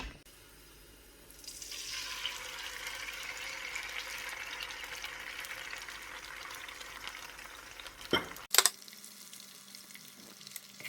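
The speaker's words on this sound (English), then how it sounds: "Little bit of oil to fry my eggs." Eggs frying in a little oil make a steady bright sizzle that rises after a quiet start and holds. Near the end it is broken by a couple of sharp clattering knocks.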